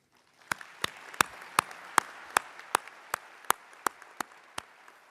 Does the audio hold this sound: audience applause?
yes